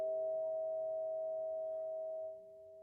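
A steady 369 Hz pure sine tone hums continuously at low level, unchanging, then drops slightly in volume near the end, with no other sounds.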